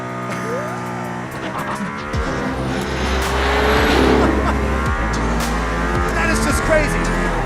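A Mercedes-AMG ONE accelerates hard on the Barcelona circuit, heard from inside the car as a loud, rising engine whine with layered harmonic tones that builds steadily, while voices talk over it.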